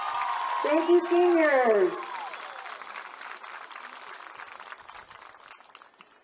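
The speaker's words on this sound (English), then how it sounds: "raise your hands so we can give you a round of applause" A crowd at a high school softball championship applauds the seniors, a broad wash of clapping that runs under a voice on the public address, then continues at a lower level once the voice stops.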